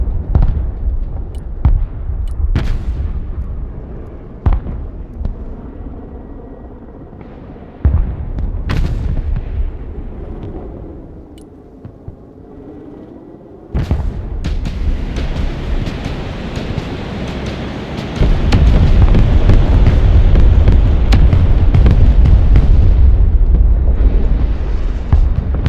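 Heavy artillery fire from a Broken Arrow battle, with sharp booming blasts in the first half, then a sustained loud roar of rapid explosions and rumble building to a dense, continuous barrage.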